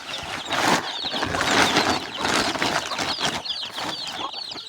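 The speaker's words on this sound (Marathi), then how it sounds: "बघा, सर्व पिल्लं अशी बाहेर आलेली" Young chicks in a farm shed chirp and peep busily as they feed, a dense, close, continuous chorus of small high calls.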